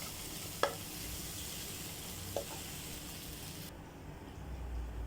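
Onions with a pinch of turmeric sautéing for a Kerala-style country chicken curry, a steady soft sizzle in the pan broken by two brief scraping stirs.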